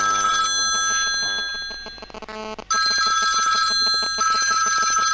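A mobile phone rings loudly inside a microwave oven with its door open, repeating electronic ringtone tones that dip briefly mid-way, then resume clear and close.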